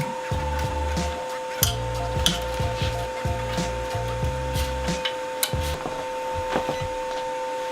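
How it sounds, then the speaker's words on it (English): A 3D printer giving a steady, continuous alarm tone throughout, layered with whirring stepper motors and scattered mechanical clicks and scrapes close by. "No, it's still beeping."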